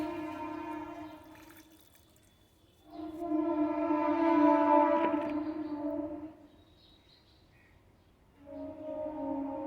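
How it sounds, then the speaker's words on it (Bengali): Water is poured into a potted Crossandra flower plant set in a bowl, a steady splashing stream that swells for a few seconds, fades, then starts again at the end, close by with no talking. "এবার আমি জল দিয়ে দিচ্ছি।"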